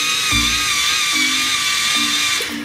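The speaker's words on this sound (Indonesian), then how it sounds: "Tangan saya bor." A plastic toy drill spins with a steady high-pitched whirring buzz, close and continuous, with a few brief low knocks as it presses or changes direction.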